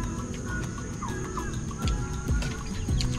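Rooster on a Filipino rural homestead, clucking and short calls close by over a busy background of other fowl and birds, with a few sharp knocks.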